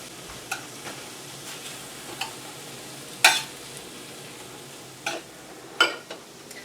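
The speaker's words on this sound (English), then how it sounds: "and just a little bit of minced garlic. I'm going to let that come together." Minced garlic sautéing in a pan of oil, a faint steady sizzle broken by several sharp clicks and scrapes of a utensil stirring against the pan.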